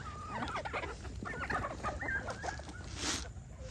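Farm chickens cluck steadily and busily while being fed cracked corn in the evening, a close, continuous flock chatter with overlapping calls and no talk.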